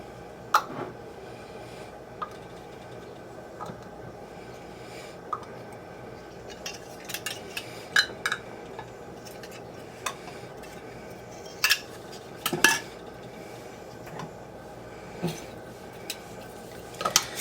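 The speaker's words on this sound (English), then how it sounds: "So I'm just going to drop on my lids." Metal canning lids set onto filled jars of ravioli, giving scattered light metallic clinks and taps, some in quick pairs, against a quiet kitchen background.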